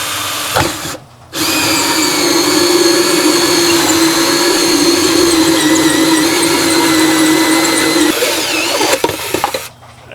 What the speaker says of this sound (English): This hole saw is actually a little undersized, but I think we'll get it plenty of airflow through here